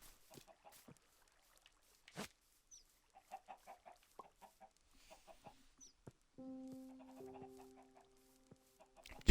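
A chicken in a video game on a farm clucks in short, bursty clusters of notes spread across the stretch, fairly close and moderate in volume, with a sustained tonal hum entering near the end.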